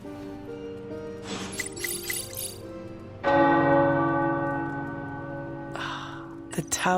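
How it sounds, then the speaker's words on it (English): Church tower bells ring in overlapping peals, swelling loudly midway with long sustained tones and a few sharp later strikes, with no talk over them. "The tower bells are ringing."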